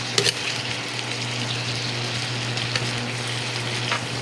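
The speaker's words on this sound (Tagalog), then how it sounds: "kaunting halo-halo para ma-mix yung giniling at saka yung sayote" Ground pork and chayote being stirred in a frying pan, a steady close sizzle with a low hum beneath and occasional spatula scrapes and taps, no talking.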